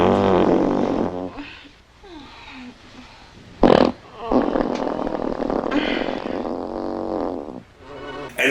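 A comedic movie fart from the film Joysticks, a short loud burst standing out midway through, with people talking over much of the surrounding audio.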